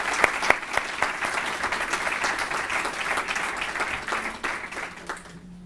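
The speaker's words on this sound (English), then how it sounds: "So let's give them each a warm applause." Warm audience applause for a panel at a discussion on Charlottesville, a dense wash of many hands clapping, steady and moderately loud before fading at the end.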